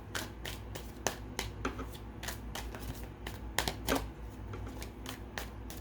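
A deck of tarot cards is shuffled by hand during a full moon in Aquarius reading, giving crisp, repeated riffling snaps in an irregular rhythm, close and clear against a quiet room.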